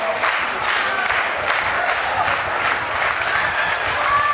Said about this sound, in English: Trying to fight out of it as this crowd gets behind Frank the Crank